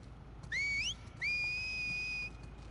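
Whistled signals from Scar enemies in The Last of Us Part 2: one rising two-tone whistle followed by a longer sustained whistle, clear and fairly loud over quiet game ambience.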